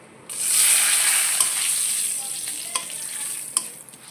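Cinnamon and three bay leaves dropped into hot oil for paneer biryani burst into a loud hiss that swells and slowly fades, with a few sharp clicks of a stirring utensil near the end.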